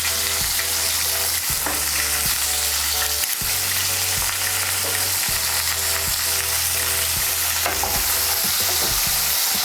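Eggplant frying in oil seasoned with salt and turmeric gives a steady close sizzle, with repeated stirring scrapes in the pan and a low hum running underneath.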